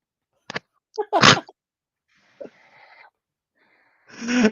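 A sharp sneeze bursts out close by after a couple of quick inhales, followed by faint wheezy breaths and another rushing exhale.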